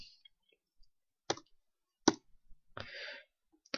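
A computer mouse gives a few sharp, isolated clicks, spaced irregularly and close up against near silence, with one short rustling burst in between.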